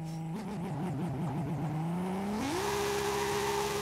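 A BMW Z4 engine in the Forza Horizon racing game revs and wavers through quick gear changes, then climbs steadily into a sustained high-pitched whine, close and loud throughout.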